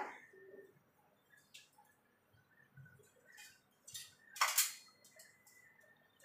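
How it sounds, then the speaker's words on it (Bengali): Four dried red chillies are stirred in a hot, dry frying pan while making garam masala: quiet, sparse scrapes and light metallic clinks of a spatula against the pan, with one sharper scrape near the end. "শুকনো লঙ্কাটা একটুখানি এভাবে একটুখানি নাড়াচাড়া করে নেব"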